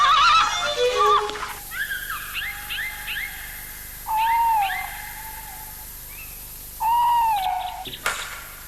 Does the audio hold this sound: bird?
yes